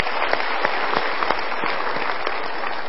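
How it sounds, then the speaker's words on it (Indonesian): An audience applauds at a motivational talk, a dense continuous wash of clapping from many hands, loud and close, with a few sharper individual claps standing out and no talk over it. "Kita berikan tepuk tangan dulu."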